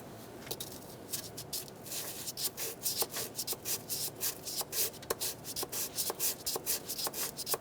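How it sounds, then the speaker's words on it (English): A sanding block rasps across metal in steady back-and-forth strokes while cleaning corrosion during fuel injector replacement on a 2003-2008 Honda Pilot, close and rhythmic, with no voices. "we'll use this sanding block to sand down the top of this and get rid of any of this black stuff"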